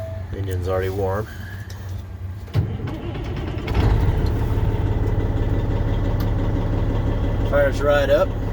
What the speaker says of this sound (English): Engine's already warm.